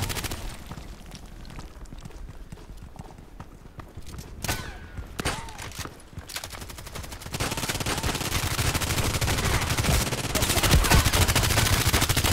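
Rapid gunfire from the online shooter Contract Wars, bursts of shots crackling over a busy game soundscape, growing louder and denser toward the end.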